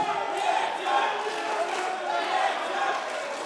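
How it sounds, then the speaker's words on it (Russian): Crowd of fans at a BFC 59 fight night cheering and shouting in support of the fighters, a steady, dense roar filling the arena throughout. "Слышим, начинают поддерживать бойцов."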